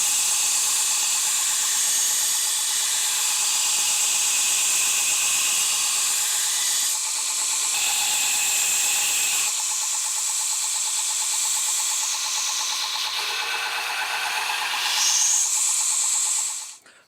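Knife blades being rough-ground, bevels put on five blades with a centerline marked: a steady, loud hissing grinder rasp runs throughout, with brief pauses and shifts in pitch as the blade is worked, ending abruptly.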